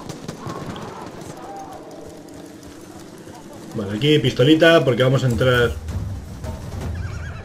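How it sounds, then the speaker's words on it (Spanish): A horse whinnies loudly and hooves clip-clop nearby in the Battlefield 1 video game, mixed with bird calls, while someone talks over it. "Hay un caballo ahí."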